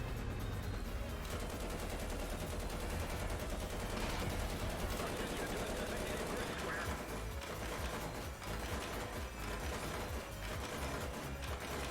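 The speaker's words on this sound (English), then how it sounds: "this machine gun is absolutely useless" Tank machine gun firing in War Thunder, a sustained rattle of rapid automatic bursts that stays steady and dense throughout, with a voice talking over it.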